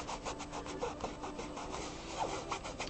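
Steady rubbing of a drawing to blend and fade the marks, a continuous soft scratchy friction with faint rhythmic strokes, close and quiet with no voices.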